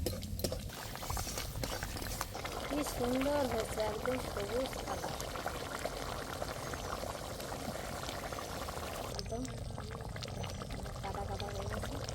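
Greens tipped into hot oil in a pan for a Bengali mixed saag dish with dried chilli and black cumin, a continuous sizzling hiss with someone talking over it throughout.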